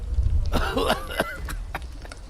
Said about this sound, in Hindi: अचानक से उनमें से एक आदमी को जोर से खांसी आने लगती है।